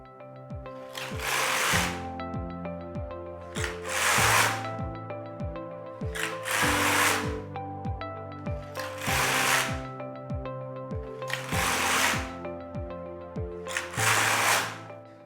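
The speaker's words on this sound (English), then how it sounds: "I take my carriage across from right to left" A Singer Solo hand knitting machine's carriage is pushed across the needle bed again and again, making six rattling, clacking passes, each a burst of a second or so, with short pauses between and no voices.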